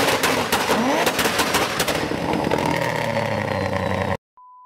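A car or motorbike engine revs hard at a red light, with throaty bursts and rumbling that settle into a lower idle before cutting off, followed by a brief electronic tone.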